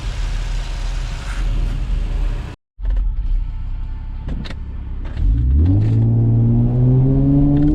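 A nearby Infiniti FX35 fitted with a plenum spacer and 75mm throttle body idles with a deep rumble, falls briefly quiet, then revs loudly with climbing engine pitch toward the end.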